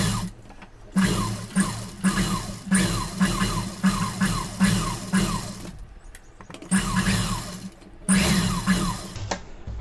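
A sewing machine stitches a pleated sleeve and its lining in repeated rapid bursts. Each burst is a dense, close mechanical rattle, separated by brief pauses.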